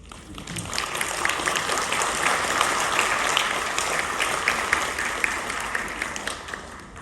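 An audience at a school spring band concert applauds steadily for several seconds, a dense wash of many hands clapping in a hall, with faint voices underneath.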